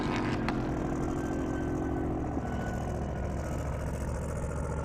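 A C5 Corvette's engine runs loud and near with a deep, rough rumble, starting on a higher revving note that drops away after a couple of seconds into a steady throbbing run. Nobody speaks.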